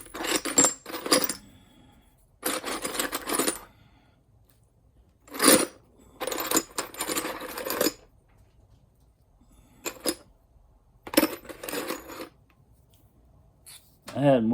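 Heat-treated stone arrow points clink and rattle in bursts as they are picked through in a bucket, separated by quiet pauses.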